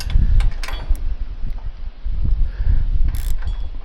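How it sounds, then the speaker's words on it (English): A socket ratchet wrench turns a bolt while a drive belt is replaced on a Troy-Bilt Mustang mower, giving scattered close mechanical clicks and rattles over a low rumbling background. "I decided I needed to get a socket with a ratchet"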